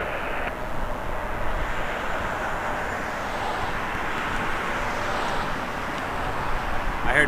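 Airliner taking off from runway 05 at Toronto Pearson Airport, a steady broadband engine roar that holds loud and even throughout, swelling slightly toward the end, with no talk over it.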